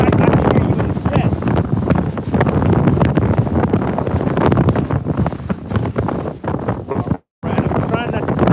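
Hurricane Milton's winds batter a bass-fishing boat, roaring loudly and continuously into the microphone with gusty buffeting and a brief dropout near the end. A voice is partly buried under the wind.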